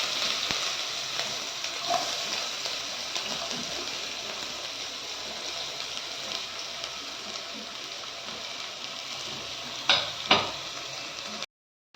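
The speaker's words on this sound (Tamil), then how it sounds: "இப்போ வெங்காயம் போடுறோம்." Onions sizzle steadily in hot oil with fenugreek seeds while an anchovy curry is being cooked, a constant close frying hiss with a couple of louder crackles near the end.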